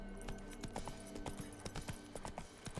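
Horse hooves clop steadily in The Witcher 3, a close, rhythmic run of hoofbeats over a dense game background with music or ambience.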